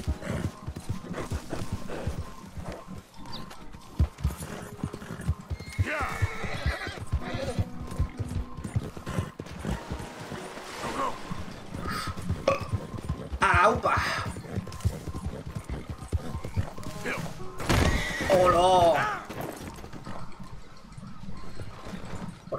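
In the Western game Red Dead Redemption II, a horse's hooves clip-clop steadily while it neighs and whinnies a few times, with a voice talking over the ride and other game sounds.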